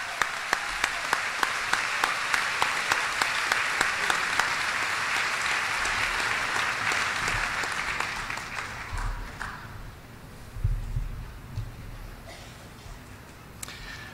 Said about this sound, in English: One more round of applause for the Easterners and the Appleton East Choir.